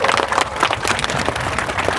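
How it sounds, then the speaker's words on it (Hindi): A crowd at an MIM political rally in Aurangabad claps in a dense, steady patter that carries through the whole stretch, with a faint hint of voices mixed in. "तालियां बजनी चाहिए"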